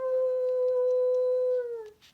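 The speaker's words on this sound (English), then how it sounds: "One day, a wolf sat on the rock that was Sylvester and howled because he was hungry" A single wolf howls in one long, steady, clear tone that holds evenly before sliding down and fading out at the end, heard alone and fairly close.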